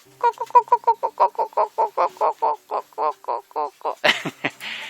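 Chickens in a small coop give a rapid run of nasal, regular clucking calls, close and evenly paced, ending in a few sharp noisy squawks.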